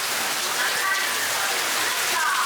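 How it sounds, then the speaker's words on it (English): Heavy rain pours steadily during a storm at the Kings Island amusement park, a dense, loud hiss of drops on surfaces heard near a roofed shelter, continuous and with no talk. "the first storm has arrived."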